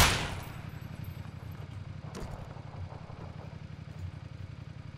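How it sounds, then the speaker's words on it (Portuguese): A motorcycle pulls up in PUBG: Battlegrounds, its engine a steady low, throbbing drone like an idle that holds throughout. A sharp clatter cuts in briefly midway, and no one speaks. "Chegou uma moto aqui agora, é isso mesmo?"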